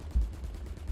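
Burst-fire weapon shots in Valorant during weapon testing, a loud low thump near the start and another at the end with rumbling between.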